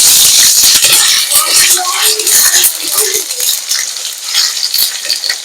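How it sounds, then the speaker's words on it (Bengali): Ginger and garlic frying in a little oil for Bengali chicken kosha, giving a bright continuous sizzle dotted with sharp clinks of a utensil against the pan. "তেলে আমি অল্প করে আদা রসুন দিয়ে দিচ্ছি"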